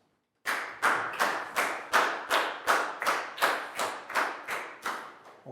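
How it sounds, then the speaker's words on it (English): A classroom of Year 4 pupils gives a round of applause, about a dozen loud, evenly spaced claps in a steady rhythm, close and clear with no talking. "a big round of applause for Net"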